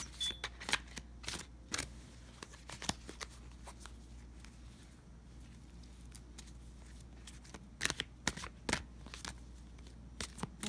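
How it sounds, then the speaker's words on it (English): Tarot cards are shuffled in quick, crisp riffles and flicks, in scattered bursts over a faint steady hum, with no one talking. "I just want to shuffle the cards"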